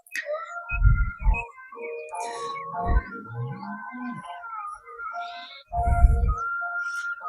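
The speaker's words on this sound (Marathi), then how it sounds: "आणि हा पक्ष्यांचा किलबिलाट" Birds call and chirp in a quiet village, with clear tonal whistles and trills layered close by, broken by a few low thumps.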